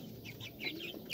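A porcelain rooster among poultry clucks softly several times in quick succession, close by and fairly quiet, with no talk over it.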